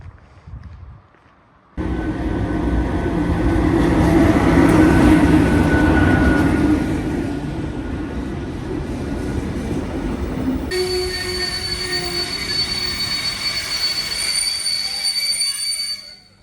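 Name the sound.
train arriving, wheels squealing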